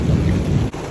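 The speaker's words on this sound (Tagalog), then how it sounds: "napakalakas ng ulan" Very heavy rain lashes down during a typhoon, a loud, dense roar with a deep thundery rumble underneath, continuous and close.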